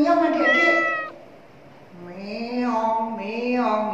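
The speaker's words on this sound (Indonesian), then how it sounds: "Oh, ada suara meong-meong adik-adik." A cat meows twice, first with a long close meow and then, after a short pause, a drawn-out rising and falling meow, clear and loud with no voices.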